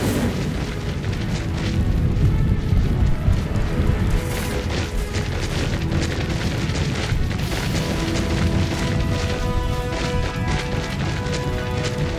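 Fiery Incendio spell blasts erupt in Hogwarts Legacy, a steady roaring, crackling barrage of bursts and booms over game music, continuous and loud throughout.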